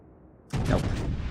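Naval shells from World of Warships gunfire land in one sudden loud burst after a quiet lead-in, followed by a sustained rumbling roar that slowly fades.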